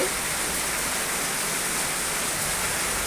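Heavy rain pours steadily in a village neighbourhood during a thunderstorm, a dense, even hiss of water drumming on surfaces with no break across the whole stretch; no thunder stands out.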